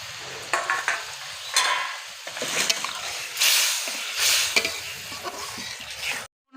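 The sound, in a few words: egg cake cooking in curry gravy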